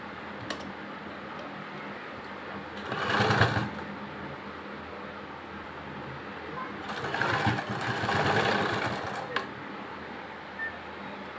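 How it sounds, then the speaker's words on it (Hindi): A sewing machine top-stitches lace onto trousers in two bursts of rapid whirring stitching, each a couple of seconds long, separated by quiet pauses, close and moderately loud. "यहाँ से ऊपर से जो है आप दाब सिलाई लगा देंगे।"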